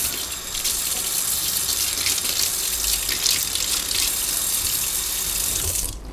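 A faucet runs steadily into a sink while a paint brush is rinsed in soap, a loud, close, continuous gush that holds for several seconds before easing slightly at the end.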